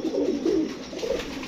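A pet pigeon cooing close by, a few low, rolling coos in a steady rhythm, alone without any talking.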